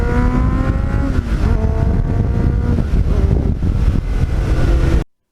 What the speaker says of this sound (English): with the Muzzy muffler, I don't know, it's mesmerizing to take it up full RPM, go through the gears, back off the gas